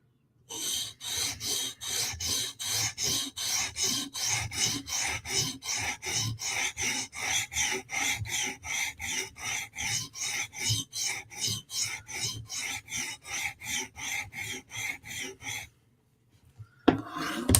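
A Hinderer knife is worked on a TSProf Kadet sharpener in close, regular rasping strokes, about two or three per second, that run steadily and then stop. A brief soft knock follows a short pause.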